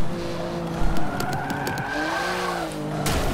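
Race car engine from Forza Motorsport 7 on a track where sand overlaps the tarmac, droning steadily with harmonic pitch sweeps, a brief tyre skid and short bursts as the car loses grip in a corner, loud and continuous throughout.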